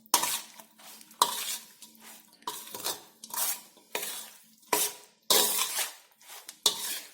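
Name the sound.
stirring and mixing carrot pickle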